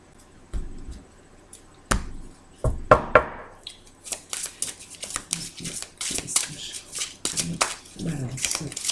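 A deck of cards is cut and shuffled for a January 2021 Libra tarot reading, a run of close, soft riffling slaps and taps in irregular bursts, with someone speaking French alongside.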